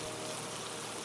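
Heavy rain pours steadily through the whole stretch as a dense, even hiss with no breaks, sitting at a moderate level with no voices over it.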